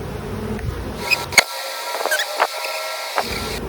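Honey bees buzz during a September hive inspection, a steady close drone with a few louder bursts as individual bees pass near. No one speaks.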